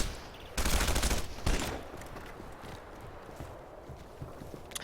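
Gunfire in the open-world shooter Red Faction: Guerrilla, with a loud broadband burst of shots early on and a second short blast, then quieter scattered reports and rattling game noise.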